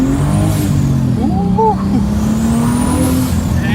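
A rebuilt 2023 BMW M3 engine roars loudly past 4,000 rpm, a steady close drone with some pitch wobble, while a voice speaks briefly over it.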